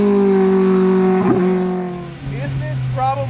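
A heavily customized Lotus sports car with a dual-stage setup, driven hard on canyon roads, its engine droning steadily and then dipping and rising with a shift, close up beneath someone talking.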